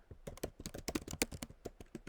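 Typing on a computer keyboard while entering a recipe into a recipe app, a steady run of close, crisp key clicks at an irregular rhythm, with no talking.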